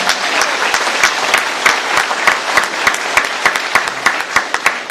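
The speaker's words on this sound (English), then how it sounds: "let's give him a round of applause" A crowd at a townhall on the border crisis gives a round of applause for the Texas attorney general, steady close clapping with sharp individual claps standing out, sustained at moderate loudness without speech.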